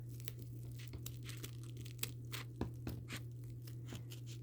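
Scissors snipping up the center of a fabric shirt mockup, a run of short crisp cuts and crinkling fabric at a steady close rhythm over a low steady hum.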